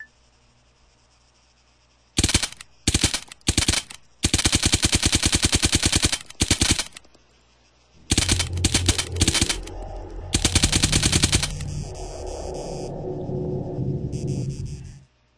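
Suppressed Scorpion submachine gun with a 9mm suppressor fires in Arma 3, in rapid clattering automatic strings broken by short pauses, loud and close, with a lower rumbling tail on the later bursts.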